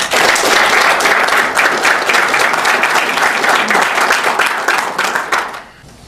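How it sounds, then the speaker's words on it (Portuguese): Loud, sustained clapping from an audience at a Guarani football club talk, a dense continuous round that fades out abruptly near the end. "e vamos bater palmas para eles também."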